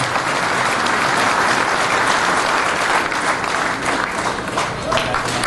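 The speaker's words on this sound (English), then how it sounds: "let's give them one more round of applause" Loud, sustained applause from a crowd in the show arena at the 2015 National Western Stock Show in Denver, a thick continuous wash of clapping with no break.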